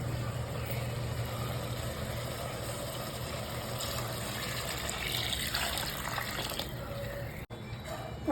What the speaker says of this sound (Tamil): 10 டம்ளர் தண்ணி ஊற்றணும்.